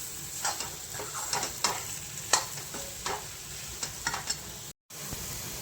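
Potatoes tempered with mustard seeds, fenugreek, cumin-coriander powder, turmeric, chili and salt fry in a pan, with a soft continuous sizzle broken by repeated scraping clicks of stirring, close and fairly quiet.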